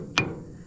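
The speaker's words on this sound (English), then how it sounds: "I just gave it a hammer tap" A single light hammer tap on a part of a Pottinger mower gearbox, one short sharp metallic knock with a brief ring, close by and alone in a quiet workshop.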